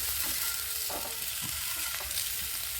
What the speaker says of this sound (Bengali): 2 মিনিটের জন্য এইগুলো এইভাবে নাড়িয়ে চাড়িয়ে ভেজে নিতে হবে।